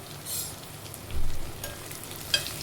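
Onions and tomatoes cooking in a pan for a village-style kara kuzhambu with broad beans and eggplant, a soft steady sizzle with occasional stirring and a brief clink.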